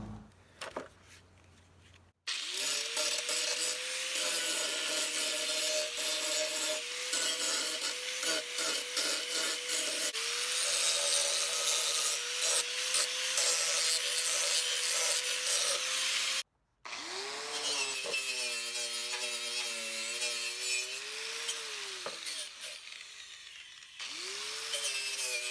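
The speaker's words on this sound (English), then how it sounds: "I'll grind it up nice" An angle grinder grinds down a weld bead on the exhaust of a Massey Harris 50 or Massey Ferguson 50 tractor. The loud, sustained whine wavers in pitch as the load shifts and cuts out once briefly before resuming.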